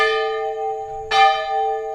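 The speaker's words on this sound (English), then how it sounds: "I hit the bell again," A metal bell is struck twice with a logger's mark, each hit giving a bright clang followed by a long, sustained ring close to the listener.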